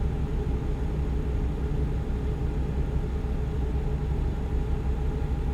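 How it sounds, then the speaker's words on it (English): A quiet truck engine in American Truck Simulator runs at a steady low hum, with a constant faint drone and no talk. "You just open the truck up and let her scream, or in this case, barely hear it because this thing is so quiet."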